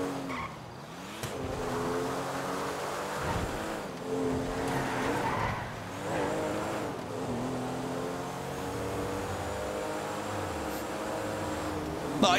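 A Porsche in GTA V drives hard with a revving engine whose pitch climbs and drops through gear changes, mixed with sustained tire squeal and skidding as it slides through corners, loud and continuous.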